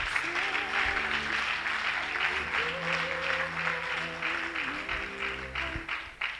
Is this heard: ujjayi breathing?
no